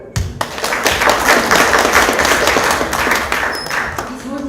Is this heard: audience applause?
yes